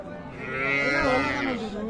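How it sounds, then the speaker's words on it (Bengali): A Sahiwal cow at the Raniganj cattle market in Dinajpur gives one close, drawn-out moo that swells and fades over about two seconds, with faint market chatter behind. "আমরা কিন্তু শাহিয়াল জাতের একটু গাভী বাচ্চার তথ্য দিচ্ছি আপনাদের।"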